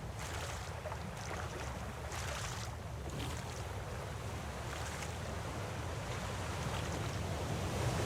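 Steady ocean waves wash and surge around a small raft on open water in the survival game Raft, a continuous rushing wash with wind noise, loud and unbroken throughout.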